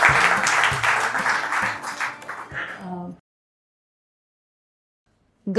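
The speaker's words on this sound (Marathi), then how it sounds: "संपदा जोगळेकर कुलकर्णी यांचं आपण टाळ्या वाजून एकदा पुन्हा स्वागत करू" Audience applause welcoming dancer Sampada Joglekar Kulkarni at a literary reading event, a dense burst of clapping for about three seconds that stops abruptly into silence, then a brief sound at the very end.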